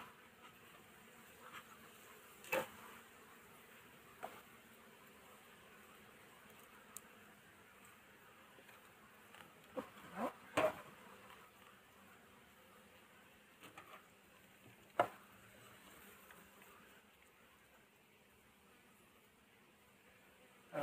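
Black honeybees buzzing at an opened beehive, a steady faint drone of many insects with occasional brief knocks and clicks from handling the frames, no talk over it.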